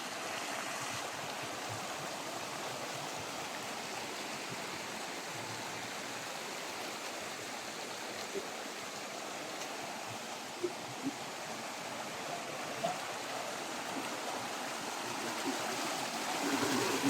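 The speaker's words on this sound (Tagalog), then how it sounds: "At ang ganda ng daloy ng mga tubig." Steady, moderately quiet rush of a mountain stream running over stepped rocks, continuous, without voices.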